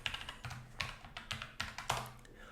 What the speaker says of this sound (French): On valide la connexion et on tape le mot de passe.